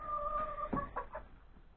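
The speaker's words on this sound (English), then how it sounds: "there's the chickens all drinking their water" Chickens drinking water in a garage during freezing weather, giving a couple of short, soft clucks and a brief call close by at low volume.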